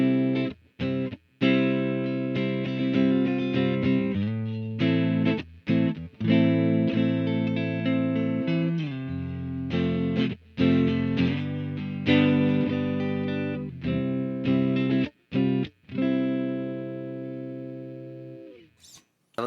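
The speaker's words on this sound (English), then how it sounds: "Let's take off the reverb. Let's see what the guitar itself actually sounds like" Glarry GTL electric guitar played clean with no reverb, close and fairly loud: a run of plucked notes and chords with sharp attacks, some short gaps, and a few notes left to ring out.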